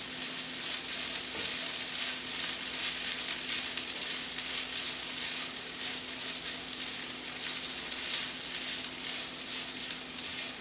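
Vegan sausage with vegetables and vegetable stock sizzles steadily in a pan, a constant close crackling fry with a faint low hum underneath and no voices.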